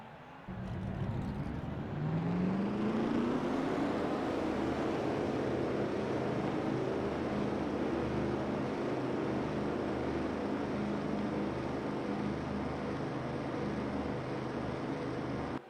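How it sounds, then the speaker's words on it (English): A field of NASCAR-style stock car engines roars to life in a racing video game before the Maple Leaf 400 at Toronto, building into a dense, sustained rumble with a rising whine and no talk over it. "Let's get the command to fire engines for the Maple Leaf 400 at Toronto."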